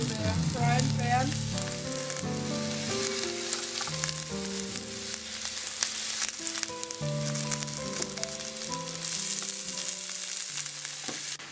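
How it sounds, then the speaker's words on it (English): Onions sizzle steadily in a frying pan, a dense continuous crackle close by, with music playing over it throughout. "Second part of our onion to the frying pan."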